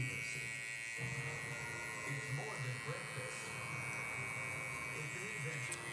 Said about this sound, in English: I'll just open up my clipper, do some corner blending to try to blend this all together